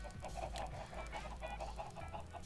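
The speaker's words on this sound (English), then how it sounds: "I have made a chicken farm to get eggs for another chicken farm." Minecraft chickens on a chicken farm cluck in quick repeated bursts, several birds overlapping at moderate volume with a low steady background hum.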